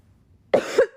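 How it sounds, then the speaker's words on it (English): A single short cough, sharp and close in a quiet room, ending in a second breathy push. "This is the lingering, this is just the last bit of cough."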